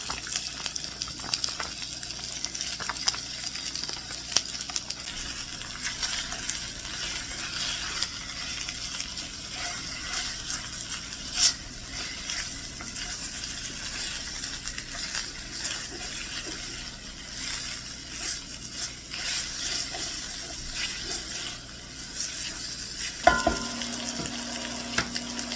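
Beef stir fry with broccoli and carrots sizzles steadily in a hot pan, a continuous loud frying hiss with occasional stirring scrapes and a brief clunk near the end, with no talking.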